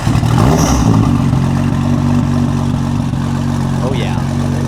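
A Nissan R34 GTR with a titanium exhaust sits at a loud, close, rough idle with a steady throb, and a short rev comes near the end. Voices talk over the engine.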